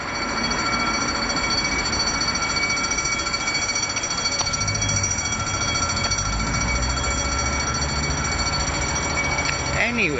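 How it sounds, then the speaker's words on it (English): A burglar alarm sounds continuously from outside, a steady piercing electronic tone held throughout under constant background noise, with people talking nearby. "And now someone's burglar alarm's going off."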